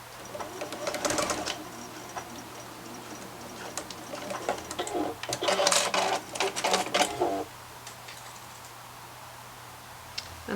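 A sewing machine stitches the elastic channel of a fabric face mask in short bursts of rapid mechanical clatter, close by, pausing between runs with quiet handling noises.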